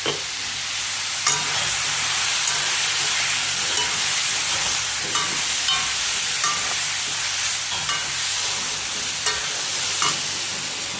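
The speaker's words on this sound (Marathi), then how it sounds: "आता 2 मिनिटं चांगलं हलवून घ्यायचं" Cucumber dosa mixture being stirred in a hot pan, a continuous loud sizzle with regular scraping stir strokes repeating every second or so, near and with no voices.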